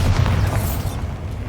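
A Bombarda spell explosion in the Hogwarts Legacy video game: a single deep, booming blast with a rumbling low tail that fades over about a second and a half.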